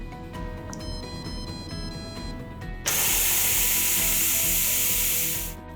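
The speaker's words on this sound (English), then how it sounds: "Now we'll hit cancel and manually release the pressure." A Deluxe Multi Cooker, after cooking eggs, is vented manually: a low machine hum gives way to a sudden loud, steady hiss of steam rushing out close by, lasting about three seconds before it cuts off.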